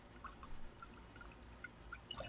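Squeezed citrus juice for a Tom Collins cocktail is poured. The faint, soft trickle is broken by a few light drips and splashes, and no voices are heard.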